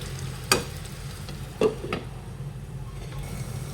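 Vegetables with peas and a little salt frying in a pan, a soft steady sizzle with a few sharp clicks and taps of a lid or utensil, no talking.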